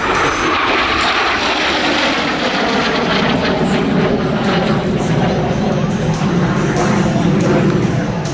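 An F-86 Sabre jet flies a big loop at the Tico Warbird Airshow in 2015, a loud continuous roar that holds steady and washes overhead without a break.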